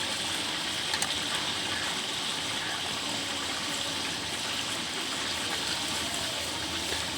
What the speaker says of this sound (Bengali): আমরা এবার দিয়ে দিচ্ছি পেস্ট করা আদা রসুন।